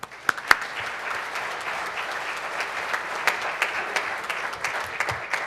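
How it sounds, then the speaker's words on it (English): Rotary club meeting audience applauding guests, a sustained round of clapping from a room of people with a few sharper individual claps standing out. "Let's give them all a round of applause."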